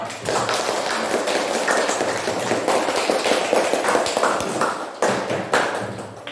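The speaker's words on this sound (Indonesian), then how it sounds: "Berikan tepuk tangan yang meriah buat teman-temanmu yang tadi telah tampil" Students in a classroom clap for classmates who just performed, a lively close burst of many uneven hand claps with sharp individual slaps, briefly thinning out near the end.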